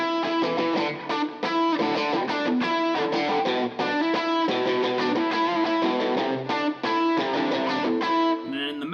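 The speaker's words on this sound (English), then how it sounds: "The intro kind of part was bridge pickup with just a tube screamer on, which sounded like this." Fender Japan Jazzmaster electric guitar played on the bridge pickup through a Tube Screamer overdrive, a bright, mildly driven riff with strummed chords and rhythmic note runs, loud and continuous with no talking.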